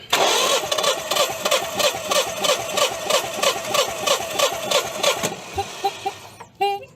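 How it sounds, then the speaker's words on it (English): A simple combustion engine cranking over in a fast, steady chugging rhythm for several seconds, loud and close, then cutting out, followed by a few faint clicks and a short squeak. "luckily this is just a simple, combustion engine, not much to it"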